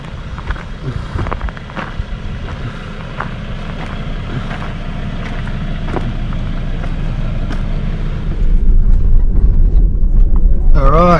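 Car driving along Hickey's Keep Track in the Victorian High Country, a steady engine and rumble with wind buffeting the microphone, growing louder near the end as gears change.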